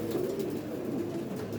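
A female Ferozpuri pigeon coos in low, soft, rolling murmurs that repeat continuously, close by and fairly quiet, with no speech.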